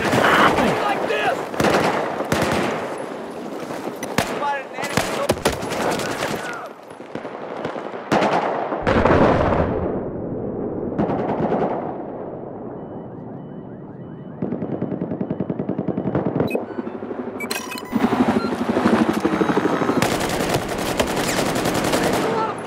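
Heavy machine gun fire in Battlefield 4 on the Siege of Shanghai or Golmud Railway maps comes in loud repeated bursts with other gunshots and quieter gaps. Voices talk between the bursts.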